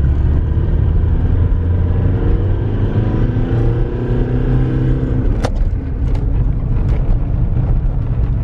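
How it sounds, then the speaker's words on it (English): A diesel-swapped, turbocharged Mk2 Volkswagen Jetta TDI drives along, its engine droning and rumbling steadily from inside the cabin, loud and continuous, with gear-shift clicks and shifting engine tone toward the end, no talking. "We're driving a shitty TDI Jetta."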